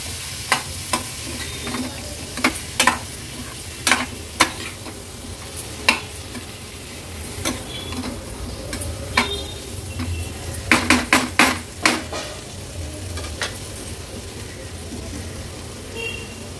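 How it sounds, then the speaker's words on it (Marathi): A spoon stirs large tomato chunks and vegetables into ground masala paste in a pan for a no-onion, no-garlic veg thali, with a steady low sizzle under repeated sharp clinks and scrapes against the metal. "भाजी व्यवस्थित मिक्स करून घ्यायची आहे वाटणावर"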